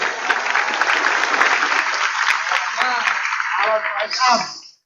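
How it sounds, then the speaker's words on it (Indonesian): A large crowd at a Dziba' Akbar gathering of the Pondok Tremas pesantren community applauds a speaker, a loud sustained clatter of clapping for about four seconds before a voice cuts in at the end. "Tepuk tangan untuk beliau."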